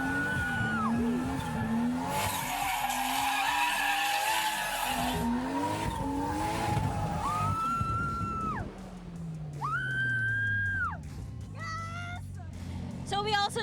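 A drifting car's tires skid and squeal in long wavering howls at a car drifting experience in the Philippines, with engine revs rising and falling between slides and a voice speaking over parts of it.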